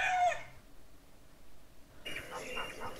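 A rooster's cock-a-doodle-doo crow rings out loud and close in the opening half second, followed by quiet and then a burst of bird chatter near the end.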